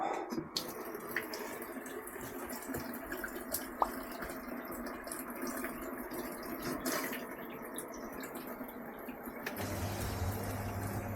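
Hot water runs from a tap on a system with an Ideal Isar boiler after a diverter cartridge replacement, a steady faint flow with soft drips and hiss, low hum joining toward the end.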